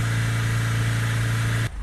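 A Toyota ProAce 2.0 diesel engine idles with a steady, close mid-pitched hum and a low throb, then cuts off abruptly just before the end.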